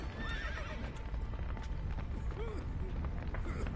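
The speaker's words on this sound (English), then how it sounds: "Horses!" Horses gallop and neigh in the Witcher 3 video game, a steady clatter of hooves under repeated whinnies, with shouting voices mixed in amid a busy scene.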